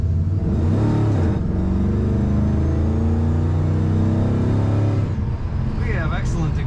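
A modified, lowered 1968 Chevrolet C10 regular-cab pickup with extra power pulls hard under acceleration, a loud, steady engine roar heard from inside the cab that eases off briefly near the end.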